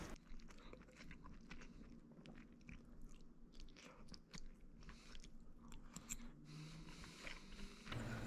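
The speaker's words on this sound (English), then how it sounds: "I'm eating a pretty sizable plate of pasta" Someone eats rigatoni with meat sauce up close, with soft irregular bites and chewing at low volume and no talk.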